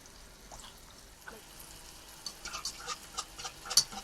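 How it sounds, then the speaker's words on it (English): Beef short ribs sear in a pan with a faint, soft sizzle that grows into crisper spattering pops toward the end, with a voice heard faintly. "just to get a nice good sear on the outside, just to brown the outside of the meat"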